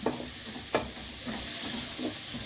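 Kara kulambu with sundakkai being sautéed and stirred in a pan: a steady sizzle with several spoon scrapes and stirs spaced through the stretch, close and moderately loud, with no talking.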